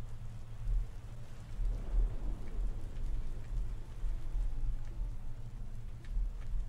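Steady rain falls in a tavern-management video game, a soft, even hiss with low rumbling underneath that continues for several seconds without talk.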